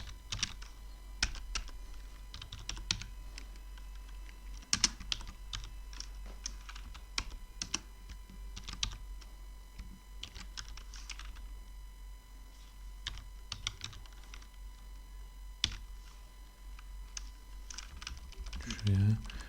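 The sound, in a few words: typing Python code on computer keyboard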